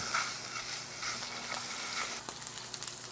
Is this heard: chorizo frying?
yes